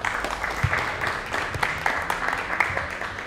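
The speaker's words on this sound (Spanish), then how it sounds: "un aplauso para ti" An audience applauds at an evening talk, steady, dense clapping from a crowd, moderately loud and continuous with no one speaking over it.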